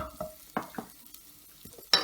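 Thin beef slices with onion and capsicum stirred in a pan over high heat: a few quiet, separate scraping strokes and a light sizzle, ending in a sharper clatter.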